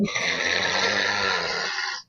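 A person loudly imitates heavy snoring with one long, rasping, throaty inhale that holds steady for about two seconds before stopping abruptly.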